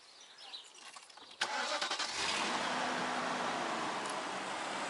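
A BMW car engine, from the E39 M5 or E38 740i Motorsport, cranks with a sharp start at about 1.4 seconds, then settles into a steady, loud, continuous running note that fills the rest of the clip.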